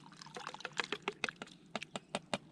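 Canned potatoes poured into a pot during camp cooking, a quick run of irregular wet plops and splashes, close and moderately loud with no talking.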